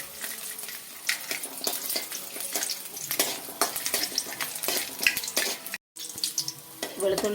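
Crackly sizzling of garlic frying in hot oil, with scattered pops and stirring scrapes, close by; a short silent gap near the end.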